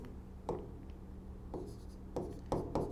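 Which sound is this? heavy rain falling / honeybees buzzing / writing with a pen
writing with a pen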